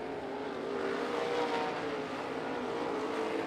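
Sprint cars race around the dirt oval at Bubba Raceway Park, a dense continuous engine roar holding steady throughout with no talk over it.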